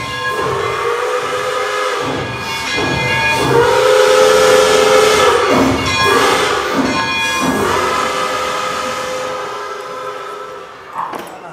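A steam train whistle blares loud and sustained over a passing train, played as a stage sound effect in a live theatre production of Stand by Me, with whistle tones and rumble swelling and fading across the whole stretch.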